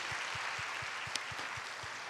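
A church congregation at a Friday evening youth worship service claps steadily to encourage graduating high-school seniors, a broad, even wash of applause filling the room at moderate level with no voices over it.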